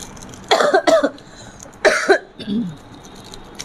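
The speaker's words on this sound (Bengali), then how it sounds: "আমার এত কাশির চোটে আমার বুক ভার হয়েছে" A person coughs in a few harsh, close bursts, two quick coughs followed by another pair, then a softer throat-clearing sound, with no talking.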